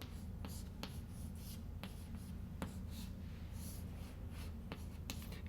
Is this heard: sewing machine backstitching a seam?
no